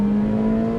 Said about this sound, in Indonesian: Senangnya kita bisa geber nih mobilnya tuh.